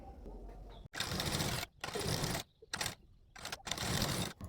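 Sewing machine stitching a blouse's fabric and its lining together, running in four close bursts separated by short pauses, each a steady mechanical whirr at moderate loudness with no talking.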